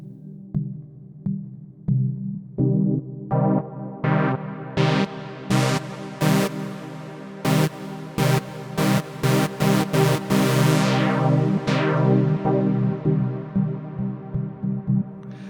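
Sustained synth chords wash together in a deep, cavernous reverb, with repeated bright stabs ringing out and tails lingering into long decays.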